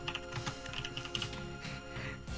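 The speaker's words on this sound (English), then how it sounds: "Don't mind, I'm just typing up the storm." Rapid typing on a computer keyboard, with a steady patter of close, crisp key clicks, fairly quiet and uninterrupted, with no voices over it.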